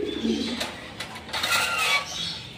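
Pigeons coo softly in a pigeon shop in Kolaghat, West Bengal, with a few low murmuring calls, light clinks and shuffling close by.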